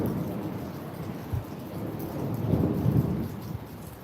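Heavy rain pours down steadily during a thunderstorm, with low rumbling thunder swelling underneath, loud and close, with no voices.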